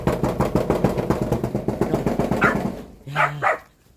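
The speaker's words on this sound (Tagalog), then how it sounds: "Ari po yung ating aso, oh." A white dog barks in a fast, steady run of sharp, loud barks, with an engine idling underneath, then two separate barks close the burst.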